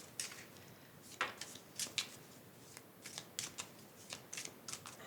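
Tarot cards are shuffled up close and quietly, giving a series of soft, irregular riffling flicks and slides.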